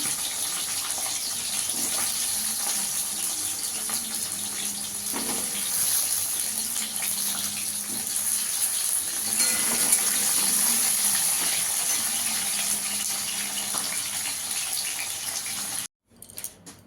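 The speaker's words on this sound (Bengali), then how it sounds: "আলুগুলো একটু লাল লাল করে ভেজে দেবো।" Potato pieces fry in hot oil while cooking a taro-stem and rohu fish dish, giving a continuous, even sizzle and hiss that holds steady and then cuts off abruptly near the end.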